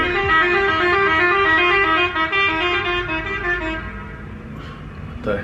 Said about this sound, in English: it's just people honking the horn